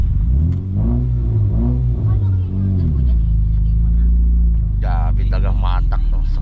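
A car's engine revs hard and strains while driving, a loud, close, continuous rumble that rises in pitch and then holds steady, with voices talking over it toward the end.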